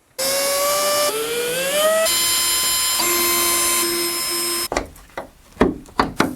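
A power drill bores out rivets on a BMW E34 hood, its motor whining steadily at shifting pitch for several seconds, then giving way to a few sharp metallic knocks and clatters, loud and close with no voices.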